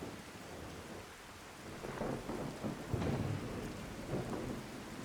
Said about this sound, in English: Okay, so nice storm sounds.